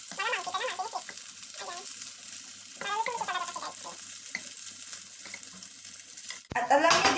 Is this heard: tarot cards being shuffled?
no